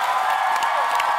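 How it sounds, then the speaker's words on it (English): A studio audience gives steady, loud applause and cheering throughout, with a dense wash of clapping hands. "let's give it a big round of applause to Tamar and Vince for showing love"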